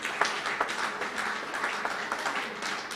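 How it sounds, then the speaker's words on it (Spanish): A church congregation in Bonaire applauds a group after a service activity, producing a dense, even wash of many hands clapping at moderate volume for a few seconds. "Un aplauso para el grupo de la actividad."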